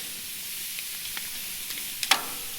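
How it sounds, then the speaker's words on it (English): Bone-in pork chops sizzle faintly on hot grill grates, a soft continuous hiss dotted with a few small pops and crackles. "Listen to that sizzle."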